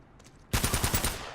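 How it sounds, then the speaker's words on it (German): A rapid burst of gunfire erupts midway through a gunfight in the video game Uncharted, the loud, close shots repeating in a quick rhythm after a quiet lead-in. "das war ein Kopfschuss"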